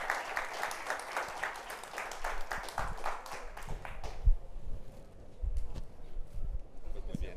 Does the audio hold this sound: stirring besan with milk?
no